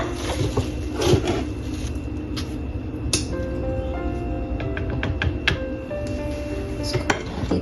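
Cut chicken pieces go into a pan for a stir-fry, with close clatter of a utensil and cookware, scattered clinks and knocks, and a faint sizzle beneath.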